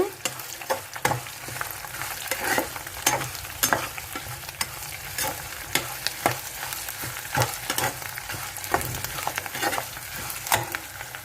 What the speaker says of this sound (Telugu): పోపులు ఎగుతున్నాయండి ఆల్మోస్ట్ ఎగిపోయినాయి